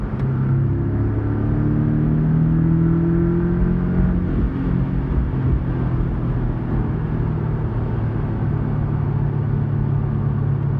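A Porsche 718 Cayman S engine revs up hard in fourth gear from 4,000 rpm, its pitch climbing as the exhaust roars loudly and steadily, with no voices.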